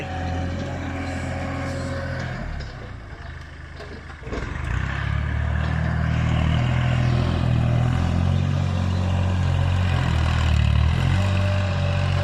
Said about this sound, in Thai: ขับรถไถ